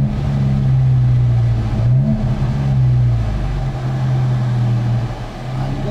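A 2016 Alfa Romeo 4C Spyder's engine drones close and loud at a steady pitch, dipping briefly and rising again as it shifts, then settling back into a sustained hum.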